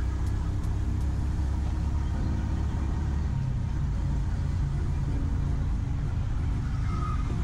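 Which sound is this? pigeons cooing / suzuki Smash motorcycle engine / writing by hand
suzuki Smash motorcycle engine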